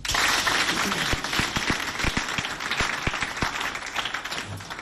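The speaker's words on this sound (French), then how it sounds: "On applaudit, s'il vous plaît." An audience at a school quiz contest between two lycées in Doba claps, starting as a dense burst of applause that thins into scattered individual claps.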